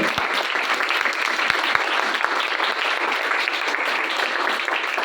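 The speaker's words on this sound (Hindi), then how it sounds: "कलाम के लिए आपकी भरपूर क्लैपिंग के साथ दावत देते इस सादे मौजूद पास्टर आरव को" Steady, dense applause from a church congregation welcoming a pastor at a Hindi-language service, continuous and fairly close, with no voices standing out.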